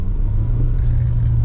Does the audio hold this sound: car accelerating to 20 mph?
yes